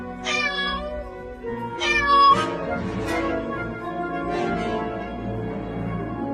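A kitten hurt by a passing car on a road meows repeatedly, several high plaintive cries in a row, close and fairly loud, over a low background hum.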